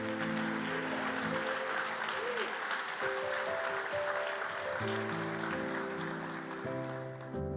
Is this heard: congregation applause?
yes